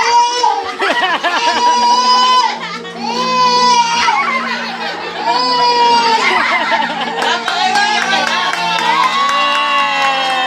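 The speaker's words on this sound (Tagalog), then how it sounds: "Wala, naiyak agad." A baby girl at her first birthday party wails loudly in long, high, sobbing bursts close by, while a crowd of guests cheers and chatters beneath her cries.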